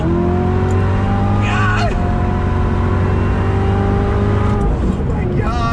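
Loud, close engine roar from a 2019 Corvette C7 ZR1 accelerating hard on a highway, rising steadily in pitch with a gear change partway through, while a man exclaims over it.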